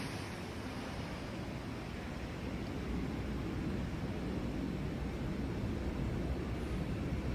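A Southwest 737 Max 8 passing through low clouds in a flight simulator, heard as a steady, broad, rushing roar that swells slightly and holds without breaks.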